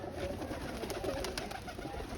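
Pigeons coo softly in the background, low murmuring calls that come and go faintly over a steady hiss, with no one talking.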